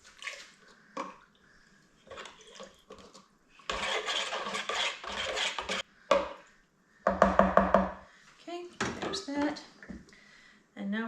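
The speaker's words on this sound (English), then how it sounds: "Gonna give it a nice good stir." A ginger mead is stirred in a brewing pot, with scraping and clinking bursts from the spoon against the pot, close and fairly loud, and a voice speaking briefly between strokes.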